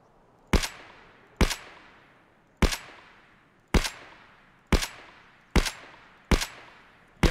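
A thermal-scoped AP shotgun in Escape from Tarkov fires seven loud, sharp single blasts about a second apart, each with a short decaying tail, and no voices.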